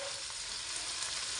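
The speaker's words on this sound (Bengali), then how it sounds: "চিংড়ি মাছগুলো আগে রান্না করার আগে একটু ভেজে নিতে হয়" Shrimp sizzling in a hot frying pan, a continuous close hiss with light crackling and no talk.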